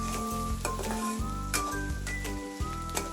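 Onions sizzling in a hot pan for chicken bhuna, a continuous close frying hiss broken by several periodic scraping stirs of a spatula, no voices.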